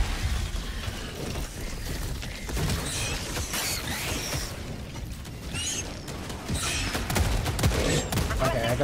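An autocannon sentry fires in Helldivers 2 amid a chaotic battle, with heavy rhythmic cannon bursts, mechanical clanks, explosions and other gunfire, plus brief in-game voice callouts.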